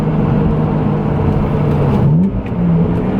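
A BMW M Coupe engine revs up to about 4,800 RPM, a loud, close, steady mechanical roar with a brief rise and dip in pitch near the end, no voices.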